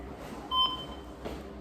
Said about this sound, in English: you hear a beep. That means your alarm is set.